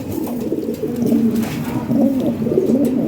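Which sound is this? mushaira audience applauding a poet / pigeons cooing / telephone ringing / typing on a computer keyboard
pigeons cooing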